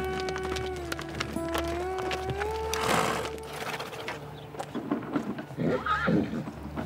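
A horse whinnies long and loud, its call rising and wavering, then hooves clop on the ground in an uneven patter that grows busier toward the end, with general outdoor ranch noise underneath.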